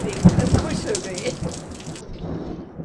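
Rain and hail falling in Kalatop forest near Dalhousie, a dense, steady patter over the first two seconds that then thins sharply, with faint voices mixed in.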